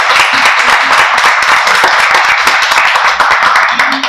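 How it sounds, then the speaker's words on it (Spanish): Applause from an audience at an award ceremony, dense steady clapping of many hands, loud and close, lasting throughout without a break. "Demos un aplauso para ella"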